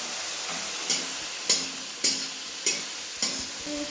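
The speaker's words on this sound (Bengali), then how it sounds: "রসুনটা ভালো করে কষিয়ে নিয়েছে" Garlic paste fries in a pan, a steady sizzle broken by five evenly spaced scraping stirs of a spatula, close and clear with no voices.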